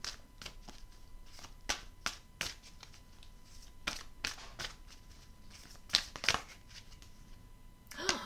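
Tarot cards are handled and laid down during a love reading: quiet, irregular snaps and taps of card stock, each sharp and brief, spaced across the stretch with soft rustling between.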